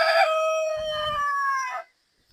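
A breeding rooster on an egg-laying chicken farm lets out one loud, close crow that holds for nearly two seconds before cutting off into silence.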